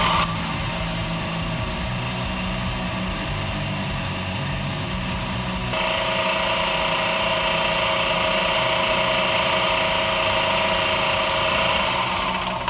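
A belt grinder works a knife blade on a 220 grit belt, a steady mechanical whir and hum running throughout with a rougher, brighter grinding layer joining about halfway in, loud and close without talk.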